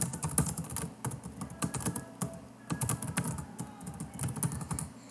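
Steady clatter of typing on a computer keyboard, with rapid irregular keystrokes running throughout at close range and no voices.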